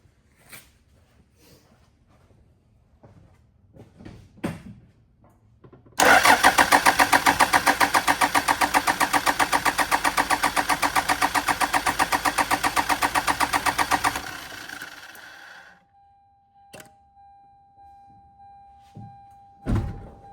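A Toyota Land Cruiser KZJ78 70 Series engine is cranked after priming at the fuel pump. It catches with a loud, rough, rhythmic run for about eight seconds, then cuts out, leaving quiet clicks and a faint steady tone.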